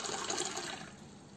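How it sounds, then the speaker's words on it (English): Water gushes strongly out of a fresh-water container in a cooking area once its air vent is opened. It makes a loud, close, continuous rushing pour that eases slightly toward the end. "now I open this vent, air goes in and the water gushes"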